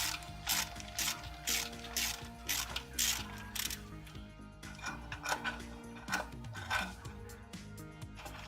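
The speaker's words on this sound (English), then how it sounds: "Drag your socket across until you feel a bolt." A socket wrench turns engine bolts near the crankshaft, giving runs of quick ratcheting clicks close up, with a soft mechanical hum and rattling underneath. The clicks pause midway and then resume; no one speaks.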